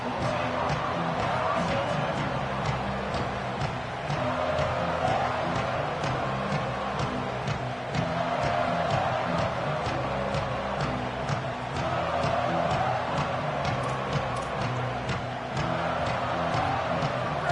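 A large crowd at a college football game against Colorado roars and murmurs continuously and loudly throughout, a steady dense wall of stadium noise with swells, and no clear voices standing out.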